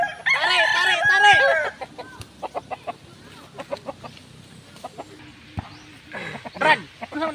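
A rooster crows loudly close by at the start, followed by scattered clucks and short fowl calls, with people talking in between.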